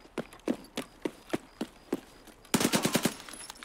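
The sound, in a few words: gunfire from a video game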